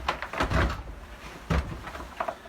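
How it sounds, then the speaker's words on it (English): Door in a church organ loft leading into the upper swell chamber, heard as a few close wooden knocks and thuds with a creaking, shuffling movement in between. "Follow me through this door."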